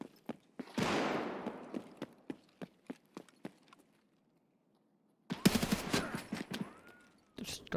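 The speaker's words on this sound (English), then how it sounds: "That was an RPK shooting." Bursts of RPK machine-gun fire from a player in Escape From Tarkov, a long loud volley up front, then scattered single sharp shots, a pause of near silence and another dense cluster of shots near the end.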